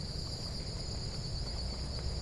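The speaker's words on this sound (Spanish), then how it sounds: "Y se escuchan los grillos muy," Loud, dense crickets chirp in a continuous high trill beside a trail at Iguazú Falls, Argentina, close by and steady, with no voices.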